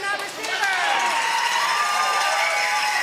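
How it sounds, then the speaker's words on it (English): Crowd noise at a pro pickleball league match between the Scottsdale Scorchers and Gilbert Gladiators, a steady, loud roar of cheering and shouting that fills the whole stretch without breaks. "Yes, the crowd is fired up."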